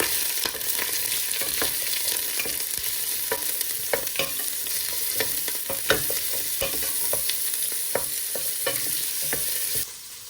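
Ginger, diced onions and bay leaves frying in a pot for kare-kare beef stew: a steady close sizzle with frequent sharp ladle scrapes and taps at irregular intervals, fading slightly at the very end, with no voices.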